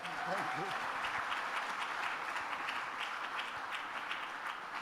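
Sustained audience applause at an AI summit, a dense steady wash of many hands clapping with cheers and voices mixed in throughout.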